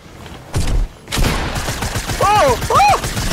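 Gunfire in the video game Fortnite, played on the old map: a few rapid bursts of shots, loud and close, with short gaps between volleys and other game sounds in between.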